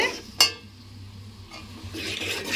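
Tomatoes and garlic stirred in a pan on low heat, soft scraping and shuffling of the spoon with one sharp clink early, faint sizzle beneath.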